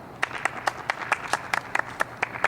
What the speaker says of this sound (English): Let's get a round of applause for Cornelia.